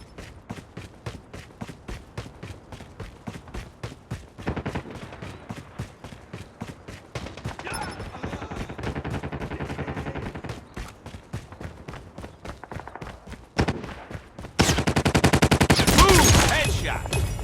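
Gunfire from a .50 cal handgun in the mobile video game Call of Duty Mobile, a long run of rapid, evenly spaced shots that grows louder and denser toward the end.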